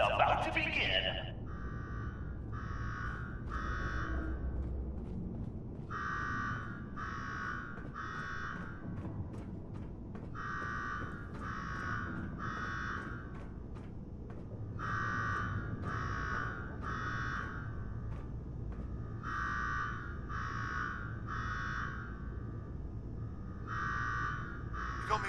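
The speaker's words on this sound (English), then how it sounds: "Now go shut off that damn alarm." A repeating electronic alarm in Fallout 4's Nuka-World beeps in triple bursts over a low rumbling ambience, cycling steadily at moderate volume.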